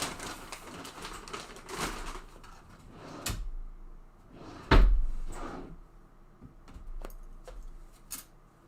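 A wooden drawer slides open and its contents are rummaged, with scattered knocks, scrapes and one sharp bump, close and fairly quiet in an indoor room.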